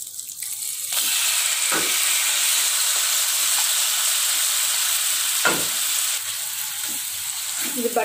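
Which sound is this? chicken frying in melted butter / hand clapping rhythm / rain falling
chicken frying in melted butter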